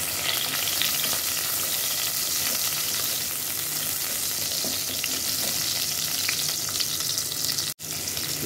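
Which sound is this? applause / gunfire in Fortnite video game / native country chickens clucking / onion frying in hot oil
onion frying in hot oil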